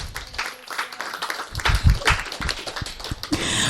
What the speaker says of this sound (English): let's give him a wonderful clap now